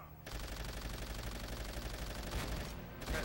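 Sustained rapid gunfire in Call of Duty: World at War, with dense machine-gun bursts roaring steadily and briefly dipping before resuming.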